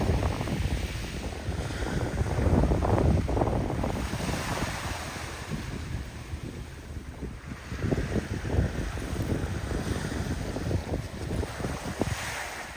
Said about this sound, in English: Another day at the beach, guys. It's really nice.